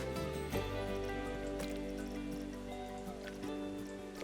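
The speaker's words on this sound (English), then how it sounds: "The rain is back in a big way, by the way." Heavy rain falls in the theme-park building game Planet Coaster 2 as a steady hiss with scattered drops, blended with continuous background game music.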